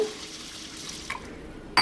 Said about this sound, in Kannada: ಇದನ್ನು ಚೆನ್ನಾಗಿ ತೊಳ್ಕೊಂಬಿಡೋಣ